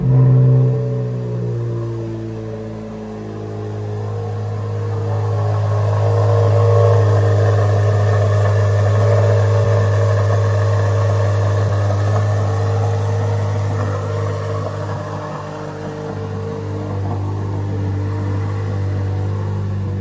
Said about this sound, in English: let's start this up so you guys can hear the sound of the new American V8